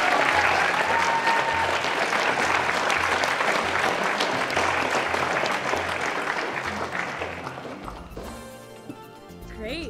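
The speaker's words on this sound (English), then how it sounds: "Let's give our speakers a round of applause." Sustained applause from an evening panel audience for the speakers, steady and full for about eight seconds before tapering off as a voice starts talking.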